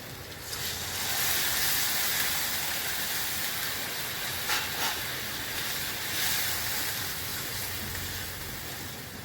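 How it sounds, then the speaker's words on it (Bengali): Water hits fried, cooked-down spices in a pan for a papaya and potato curry, bursting into a sustained loud sizzling hiss with a few sharper spits midway, no voices. "মশলা ভাজা হয়ে গেছে কষানো হয়ে গেছে এবার আমি পরিমাণ মতো জল দিয়ে দেবো"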